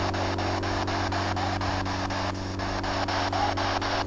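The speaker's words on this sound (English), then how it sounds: "Through the spirit box, use the energy of the white noise." Steady spirit box radio static hisses continuously with a low hum underneath, broken by rhythmic ticking pulses as the tuner sweeps, in a cemetery.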